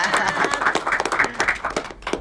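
A burst of hand clapping from a small group, steady and fairly close, with light voices mixed underneath.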